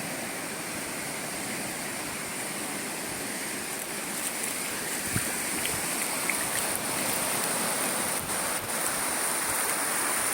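Water at the Digha estuary washes and rushes in a steady, broadband wash that holds at the same level throughout, nearby and continuous, with no voices.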